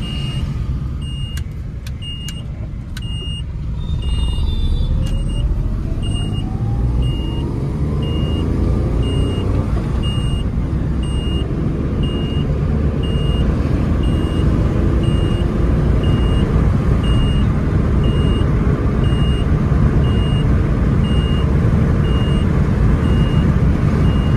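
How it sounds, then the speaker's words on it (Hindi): A 2020 Renault KWID car turns and accelerates hard during a pickup test drive, its engine noise rising steadily from inside the cabin, with a faint repeating beep early on and no talk. "यहाँ से टर्न करते हुए एक पिकअप टेस्ट करते हैं इस गाड़ी का"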